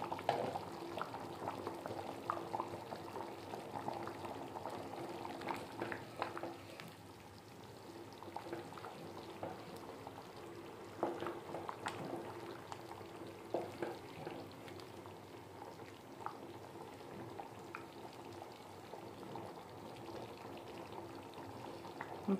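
Sweet potato and tomato curry (pulusu) simmering in a pot on the stove, a continuous soft bubbling and gurgling at a steady, fairly quiet level with no one speaking.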